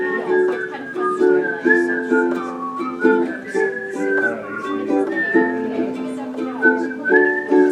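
Melodic whistling carries a tune over several seconds, with sustained notes and rising and falling phrases, clear and close.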